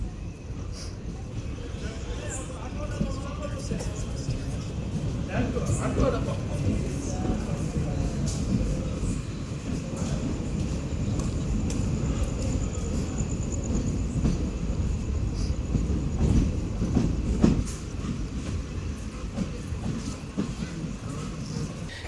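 Train No. 17662 pulls out after a one-minute halt at Gundlapochampalli station, a continuous low rumble of wheels on rails with faint rhythmic clatter, heard from on board with occasional voices underneath.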